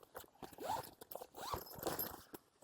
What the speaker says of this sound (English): in the back, you'll see a big zipper